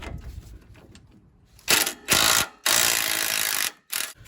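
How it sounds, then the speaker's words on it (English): Ratchet with an 18 millimeter socket working a stabilizer link nut on a 2013 Ram 1500 4x4, soft clicking at first, then several loud bursts of rapid ratcheting separated by short pauses, close up. "this one takes an 18 millimeter socket"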